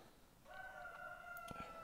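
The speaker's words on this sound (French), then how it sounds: "Coq." A rooster crows once in the morning, a drawn-out tonal call heard faintly at a distance against quiet background noise.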